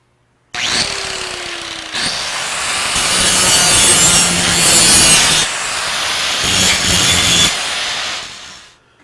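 Angle grinder beveling the cut edges of steel stair stringer plates before a full-penetration weld, a loud continuous abrasive roar with brief pauses and shifts in pitch as the disc moves along the steel, no talking.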